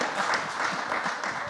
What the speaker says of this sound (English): so round of applause for amazing